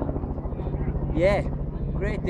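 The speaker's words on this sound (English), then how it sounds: "a chopper's coming in there now, it's pretty loud." A helicopter flies in over Birdsville, with a steady, rhythmic rotor thump and a low engine rumble running under a man's nearby speech throughout.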